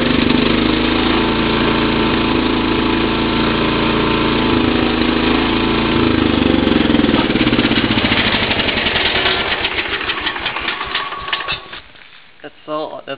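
A John Deere 200-series lawn tractor engine runs at a steady idle, loud and close, with its low chugging continuing for about ten seconds before it sputters and stops near the end.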